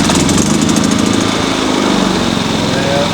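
A Westinghouse iGen 4500 generator has just started and runs right away at a loud, steady, close engine drone, with a buzzy, even hum and no break over a few seconds.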